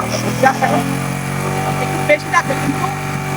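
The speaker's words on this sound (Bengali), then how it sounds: "আমি একটু স্টার্ট দিয়ে দেখি" A motorcycle engine hums steadily at a low idle after starting, close by, with someone talking over it throughout.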